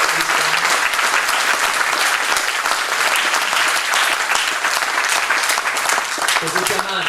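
Applause fills the whole stretch, steady and dense, for a tenor named Gianmarco amid a traditional Genoese trallalero vocal group; the clapping stays loud and continuous with only slight dips throughout.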